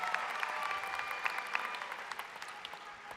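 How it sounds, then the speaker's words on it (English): Applause from a college commencement crowd for the valedictorians, a steady wash of clapping at moderate distance with a few sharper individual claps standing out. "Please help me congratulate all of them with a round of applause."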